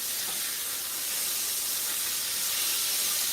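Collard greens and cabbage fry in a pot with a steady, loud sizzling hiss that holds unbroken and close throughout, with no voices over it.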